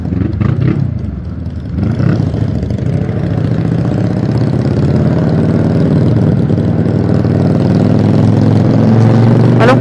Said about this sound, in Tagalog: Ang pakaingay ng Harley